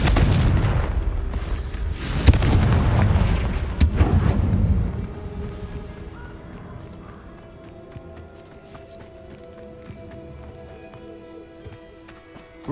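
A Confringo spell explosion in the Hogwarts Legacy game, a loud booming blast with sharp cracks over the first few seconds that fades into a quieter lingering rumble and soft ambient tones.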